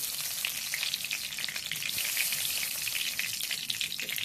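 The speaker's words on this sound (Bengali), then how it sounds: "একটু লাল করে ভেজে নেব।" Whole spices, cumin, bay leaf and dried chilli fry in hot oil in a home kitchen, a steady close crackling sizzle with fine popping that runs without pause, no voices.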